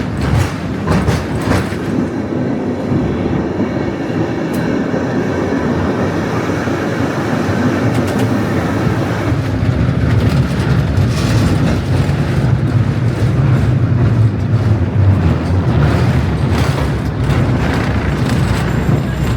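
San Francisco cable car rumbling as it takes a big turn and heads downhill, a steady loud low rattle and clatter of wheels on track that grows heavier as it picks up speed.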